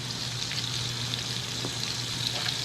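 Hamburger patties fry in a cast iron skillet, giving a steady, even sizzle with a low hum beneath and no talking.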